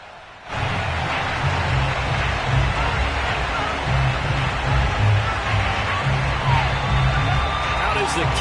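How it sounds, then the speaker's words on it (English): A football crowd at FedEx Field, ahead of a game against the Minnesota Vikings, fills the air with a steady, broad roar that swells in right away, while a commentator speaks over it. "this crowd is ready to go"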